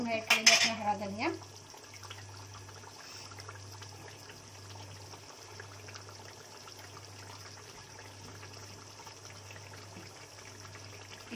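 Kadai paneer with fresh coriander is stirred in a pan, opening with a short burst of metal scraping and clinks, followed by quiet, steady stirring over a low continuous hum.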